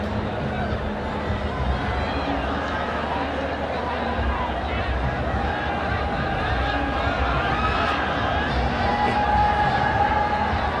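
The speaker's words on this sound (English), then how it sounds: "Anxious crowd on the top of their lungs" A stadium crowd at a Nepal vs Lebanon women's international football championship match keeps up a dense, steady roar throughout, with a commentator's voice carrying over the top.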